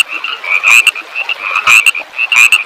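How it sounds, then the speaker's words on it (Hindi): A frog croaks in a quick series of loud, bright, rattling pulses, bunched into three clusters with short gaps, close and alone without any voices. "ये लो, कुंभकर्ण को उठाने मेंढक आ गया।"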